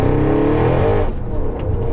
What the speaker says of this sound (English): That was four wheels spinning there.